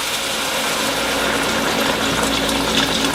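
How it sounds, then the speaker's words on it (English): Thirty-two ounces of beef stock poured into a cooking pot for beef stew, a steady broadband gushing and splashing of liquid that runs continuously and fairly loud throughout. "We're going to pour that beef stock in here."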